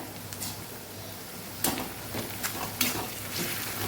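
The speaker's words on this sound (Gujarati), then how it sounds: "તો લસણ આદું અને મરચાંની પેસ્ટને પણ સાતડી લેવાની છે" Garlic, ginger and chili paste sauté with onions in a pan, giving a steady sizzle and frying hiss, broken by a few sharp scrapes and clinks of stirring.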